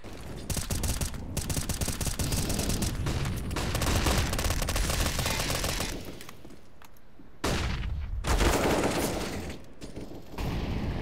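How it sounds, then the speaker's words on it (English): Rapid P250 pistol fire in Counter-Strike during a pro match, with loud, dense bursts of gunshots running through most of the span, a brief quieter lull, then more shots. "Woxic able to get that 3rd and final P250 headshot onto 0"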